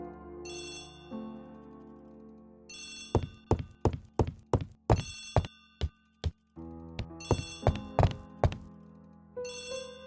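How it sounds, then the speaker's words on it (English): An old-style telephone bell rings in bursts in the Agatha Christie ABC Murders video game, with sharp metallic trills repeating several times against a quiet musical background, loud and close. "Poirot, the telephone. It must be Jap."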